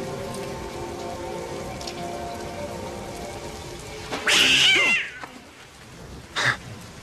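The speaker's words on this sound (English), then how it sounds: "But then we get a cat scare." A cat lets out a sudden loud, shrill screech partway through a horror film scare scene, set against a steady rain-like ambience, followed by a shorter sharp cry moments later.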